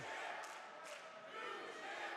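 An independent wrestling crowd at an Absolute Intense Wrestling match: a steady, distant roar of many voices with a couple of brief shouts rising out of it, no single speaker standing out.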